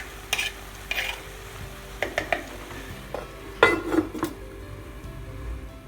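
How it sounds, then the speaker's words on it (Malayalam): Fish peera, Kerala-style shredded fish with coconut, is stirred in a pan after its lid comes off, with scattered metallic clinks and scrapes of a spoon against the pan over a faint sizzle. "ഇനി ഇതൊന്ന് തുറന്ന് നമുക്ക് ഇളക്കിയിട്ട് മീഡിയം ഫ്ലെയിമിലേക്ക് മാറ്റാം"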